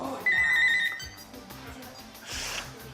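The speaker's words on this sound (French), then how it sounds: "Ah, un appel téléphonique, Cathy?" A telephone rings for an incoming call with a short electronic tone burst, then quieter sounds follow and a brief noisy rustle comes later, set in a busy broadcast studio.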